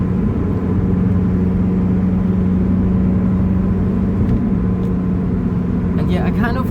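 A loud Lotus Elise drives through a road tunnel, its engine a steady close drone with deep rumble that holds an even pitch throughout, joined by a brief higher rattle near the end.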